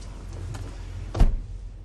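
A car door shuts with a single firm thud near the listener, a short loud impact over quiet background hum inside the car.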